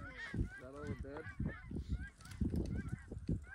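Geese honk loudly and repeatedly in overlapping calls, close by, during a North Dakota waterfowl hunting trip, with a continuous chorus of nasal honks.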